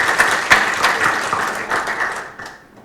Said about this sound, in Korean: 이상원 원장님께 다시 한번 큰 박수 부탁드리겠습니다